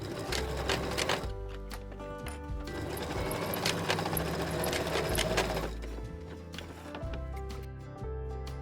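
A sewing machine stitches the bottom corners of a tote bag in bursts of rapid mechanical whirring, with short pauses and clicks between runs, close and clear without speech.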